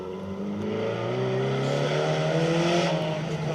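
Saab 900 rally car running flat out on a forest stage, engine tone steady and rising across the whole stretch, droning loud and continuous with no talk over it.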